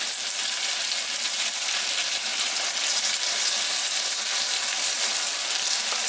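Samosas with a precooked filling frying in oil in a pan, a steady dense sizzle and crackle holding level and fairly close throughout with no talking.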